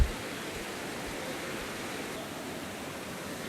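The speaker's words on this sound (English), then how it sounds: "I just moved indoor because it's starting to rain really hard" Heavy rain falls steadily outdoors beside a river, a dense, constant hiss at even loudness for the whole stretch, with no voices.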